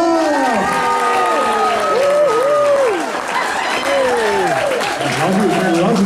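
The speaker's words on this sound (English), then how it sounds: "Big round of applause, guys!" A crowd applauds loudly and steadily, with excited whoops and cheers rising over the clapping throughout.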